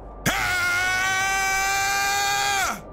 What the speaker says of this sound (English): Goku concentrates his ki and starts screaming.